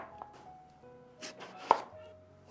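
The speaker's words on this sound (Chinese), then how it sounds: "清洗干净以后给它切成薄薄的厚片" A knife slices a round eggplant into thin pieces on a cutting board, giving a few crisp, separate chops close by over a soft, steady tonal hum.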